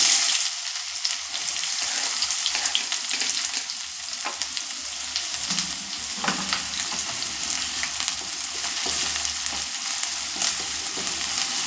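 Two large chopped onions and two cut green chillies fry in hot oil, producing a dense, loud sizzle with intermittent stirring scrapes throughout.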